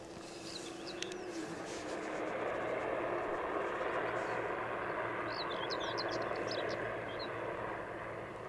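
An EasyJet airliner from Stansted on final approach into Edinburgh Airport, a steady distant engine roar and rumble holding throughout, with faint birdsong in the background.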